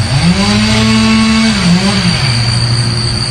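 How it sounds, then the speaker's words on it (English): A chainsaw runs loud and close, its engine whining steadily with a brief dip in pitch partway through, continuous from start to finish. "This chainsaw's out to get me today."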